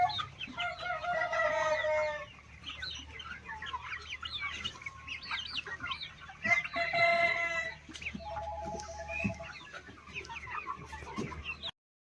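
Chickens on a poultry farm shed housing both goats and hens, clucking and calling in bursts, with crowing-like calls layered in and fairly steady flock noise throughout.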